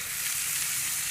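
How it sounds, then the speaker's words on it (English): Bacon frying with pieces of garlic in a pan gives a steady, bright sizzle, a dense continuous crackling hiss heard up close with no talking. "oh, listen to that bacon sizzle"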